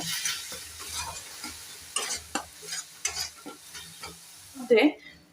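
Masala macaroni stirred in a pan: close, rhythmic spoon scrapes and sticky shuffling strokes over a faint sizzle, ending in a louder clatter. No voices.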